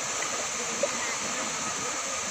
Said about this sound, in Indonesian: Sungai yang kita seberangin ini. Sungai Lembu KM 106.